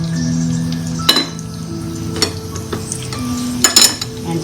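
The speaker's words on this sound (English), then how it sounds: "saute the spices" Spices sauté in vegetable oil and ghee for an egg biryani, giving a steady close sizzle, with a few sharp clinks of a utensil against the pan as they are stirred.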